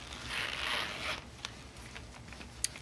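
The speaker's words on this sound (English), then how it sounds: "We have a zipper here, zipper compartment" A zipper on a shiny purple leather Armani wallet compartment is pulled in one long smooth run, then a few small clicks and taps of the pull, close and quiet with no talk.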